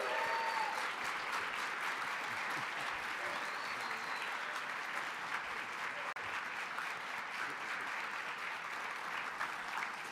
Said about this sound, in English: can we give Eric a round of applause?